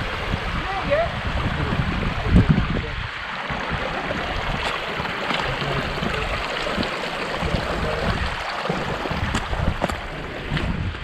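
Mountain stream water flowing on the Scafell Pike Corridor Route, a steady close rushing babble with wind buffeting, while people talk over it.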